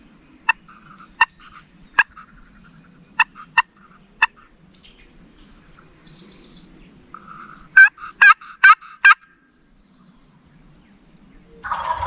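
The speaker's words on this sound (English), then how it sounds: "gobbling right in your face there" Wild turkey gobbling in late-season Missouri woods: sharp bursts of calls, a rapid run of loud gobbles near the end, mixed with quieter yelps and rustling, no talking.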